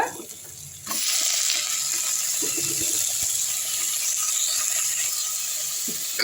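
Onions, curry leaves and ivy gourd sautéing in a pan for ivy gourd curry, with a steady broadband sizzle and faint stirring rattles after a quieter start, fairly close and with no talk.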